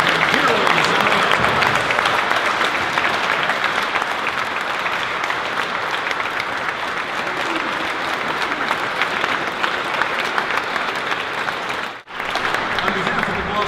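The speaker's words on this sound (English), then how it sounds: "how about another nice warm round of applause" Sustained warm applause from a large audience honoring community heroes at a Boston Celtics event, steady and loud throughout with a brief dip near the end.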